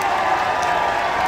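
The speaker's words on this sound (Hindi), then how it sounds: "एक बार तालियों के साथ उनका स्वागत करेंगे।" A crowd at a political rally in Haryana applauds to welcome leader Krishan Bedi, steady dense clapping with some cheering filling the whole moment, loud and close.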